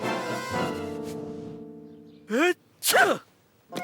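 A sharp sneeze cuts in after a stretch of sustained tonal sound, followed quickly by a second, louder sneeze burst; both are close and abrupt.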